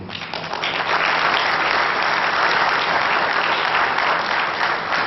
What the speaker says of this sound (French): Des grands applaudissements pour ces champions.